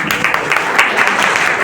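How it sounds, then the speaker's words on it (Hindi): Applause from the audience at a girls' college seminar in India, greeting the invited guests. The clapping is loud, dense and steady for the short stretch, with no voices over it. "तालियों से इन लोगों का स्वागत करिए।"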